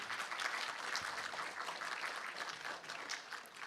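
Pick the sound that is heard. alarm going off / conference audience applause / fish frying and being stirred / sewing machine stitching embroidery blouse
conference audience applause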